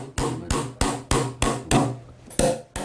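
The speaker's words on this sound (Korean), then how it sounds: "칼등을 두드려 색임질한다." A mallet taps the back of a carving knife cutting letters into wood, seven or eight sharp, loud, close knocks at a fairly even pace, each ringing briefly, with no talk.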